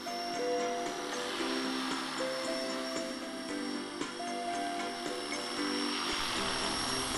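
An Esky D-700 RC helicopter fitted with retractable landing gear and a camera module comes in to land, its rotor and motor giving a loud, steady whine with layered tones throughout.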